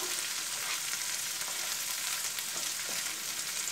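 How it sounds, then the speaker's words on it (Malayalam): Green chili and chopped ginger stirred in a hot pan for a garlic pickle, a steady close sizzle with soft scraping strokes throughout. "ഇനി നമുക്കിത് നന്നായിട്ട് ഇളക്കി കൊടുക്കാം"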